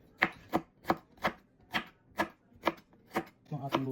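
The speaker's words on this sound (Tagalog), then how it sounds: "ihiwain na natin yung ating luya" A knife chops ginger on a cutting board in about nine evenly spaced, crisp strokes, close and clear, with a slight scraping sound at the end.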